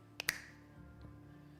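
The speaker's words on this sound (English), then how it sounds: "I'm going to snap my fingers" One person snaps their fingers, giving two sharp, close clicks in quick succession followed by quiet room sound.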